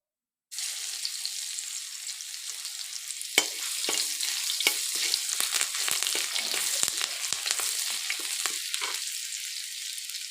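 Ground garlic paste hits hot oil and sizzles loudly and continuously, a close, dense frying hiss with crackling pops and occasional stirring scrapes.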